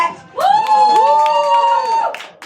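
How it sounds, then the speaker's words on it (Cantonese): Cheering and applause from a lively audience greeting a stage host named Lily, whoops and shouts rising together and sustained loudly for about two seconds before tapering off, no speech over it. "你哋嘅掌聲、歡呼聲是給我前進嘅動力"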